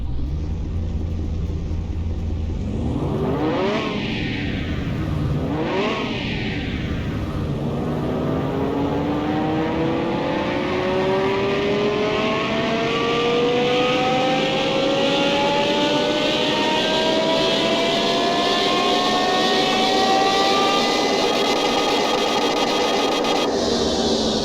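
A simulated car engine on a dynamometer in Car Mechanic Simulator 2021 after a muffler swap: two quick throttle blips, then one long, loud pull that climbs steadily in pitch to high revs with a droning, buzzy exhaust.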